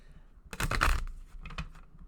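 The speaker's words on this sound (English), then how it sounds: "So you're going to hear me shuffle a little bit, and I'm just going to pull the top 12 cards that come off of my shuffle." A deck of tarot cards being shuffled by hand, a burst of riffling and flicking near the mic lasting about half a second, then a few quieter card slaps, with no talking.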